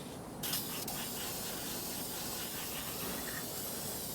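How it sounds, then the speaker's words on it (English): A fresh can of spray paint hisses steadily onto a 1972 Harley Sportster Ironhead engine case, one continuous close, even spray lasting the whole moment after a brief start. "We'll use a fresh can of paint."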